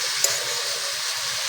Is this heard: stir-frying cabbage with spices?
yes